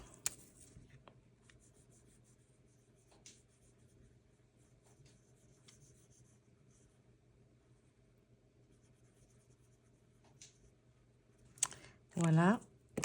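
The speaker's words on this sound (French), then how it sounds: "Je vais colorier une lettre." A pen scratches steadily on paper while colouring in a letter, a soft continuous rubbing close to the microphone with faint clicks, before a brief louder voice near the end.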